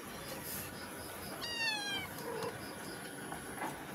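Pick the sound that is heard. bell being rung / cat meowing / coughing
cat meowing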